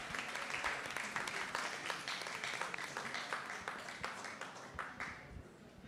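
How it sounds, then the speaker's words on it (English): Audience applause at a forum talk, steady and fairly faint, a dense wash of claps that holds for several seconds and thins toward the end. "So join me in giving them a round of applause"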